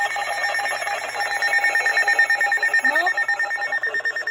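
A Canadian emergency alert attention tone for a squall warning sounds as a loud, steady, piercing electronic alarm tone that holds unbroken throughout, with a brief spoken word over it near the end.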